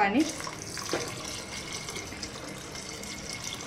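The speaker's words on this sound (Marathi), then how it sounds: "पाणी मी थोडंसं ॲड करणार आहे" Hot water runs and splashes steadily into a pot of rice, a continuous pouring hiss with a few clinks near the start.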